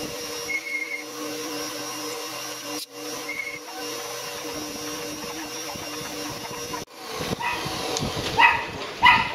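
Small dogs next door yap in short bursts at a distance, growing sharper and louder near the end over a steady background hum.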